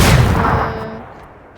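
A single loud, close gunshot with an MP5K in a video game, a heavy boom that rings out and fades over about a second and a half.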